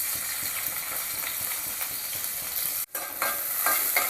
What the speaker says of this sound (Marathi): तेल जरा गरम झालं त्याच्यामध्ये घालायचा आहे कांदा.